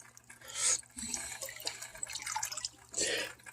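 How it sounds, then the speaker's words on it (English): Ten gallons of water splash and trickle back into a fish tank in uneven gushes with dripping between them, fairly quiet and close. "This is the 10 gallons water going back into it."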